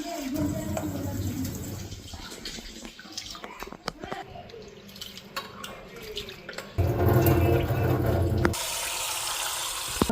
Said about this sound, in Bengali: আর এদিকে এখন চালটা ধুয়ে নি।